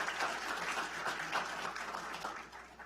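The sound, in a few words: applause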